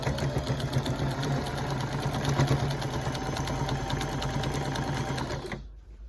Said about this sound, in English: I'm going to start sewing again at 1/4 inch all the way down this side